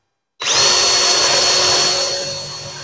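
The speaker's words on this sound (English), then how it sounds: "I'm going to drill it with the 3/16 bit," A power drill with a 3/16-inch bit starts abruptly and runs loud and steady, its whine holding for a couple of seconds before easing slightly as it bites in.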